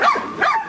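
Two loud, close barks or yelps from dogs at a dog shelter with sixteen pens and over a hundred dogs, quick and strained, with no voices.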